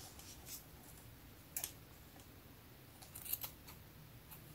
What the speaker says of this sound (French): c'est pratiquement les ciseaux des écoles qui marchent mieux que nos ciseaux